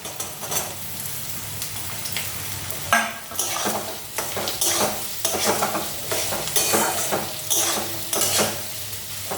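Potatoes and okra sizzle and fry in a pan with oil while a utensil stirs them, scraping the metal in repeated bursts; steady close crackle throughout, no talking.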